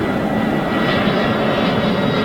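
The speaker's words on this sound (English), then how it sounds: "here it comes, is this it? Oh, this is EasyJet" EasyJet airliner passing overhead at Manchester Airport, a loud continuous jet engine roar heard from nearby with no talk.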